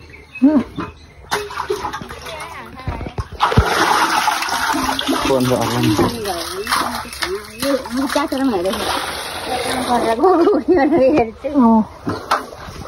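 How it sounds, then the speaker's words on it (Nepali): Water is drawn and poured at an open well, with splashing and sloshing bursts against steady outdoor background noise, while people talk over it throughout. "पानी झिक्नु हुँदैछ"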